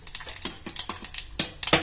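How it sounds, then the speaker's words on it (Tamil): Cumin seeds sizzle in hot oil alongside already-popped mustard seeds for a brinjal (katrika) curry: close, sharp crackling bursts and spits pop irregularly over a soft frying hiss. "கடுகு பொரிஞ்சிடுச்சு. சீரகம் போட்டுக்கிறேன்."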